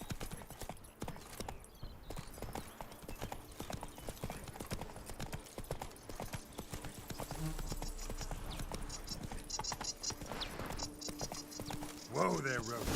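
Hoofbeats of the horse Roach galloping in the video game Witcher 3, a fast, steady clip-clop rhythm close by and continuous, with a voice speaking over it and a brief whinny near the end.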